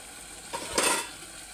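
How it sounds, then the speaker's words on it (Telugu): Mutton pieces are being stirred with salt and chili powder for a Telangana-style curry, a brief soft scrape and clatter of a utensil against a vessel, quiet and close. "ఇలా ఉప్పు కారం వేసుకున్నాక ఒక్కసారి కలుపుకోవాలి"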